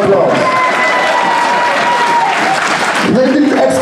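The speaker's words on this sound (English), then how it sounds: "Give this couple a big round of applause." Wedding guests applaud the couple at a reception in a manor hall in New York, a steady loud wash of clapping and crowd noise lasting several seconds, with voices mixed in.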